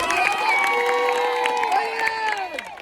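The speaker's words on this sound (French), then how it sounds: "on les applaudit une dernière fois" A crowd cheers and applauds at a school cross-country medal ceremony at Collège Sacré-Cœur in Ploërmel, with loud, continuous voices and sustained shouting throughout.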